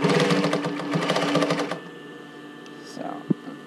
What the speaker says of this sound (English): I'm just now zigzagging my elastic around the edge, around the neckline.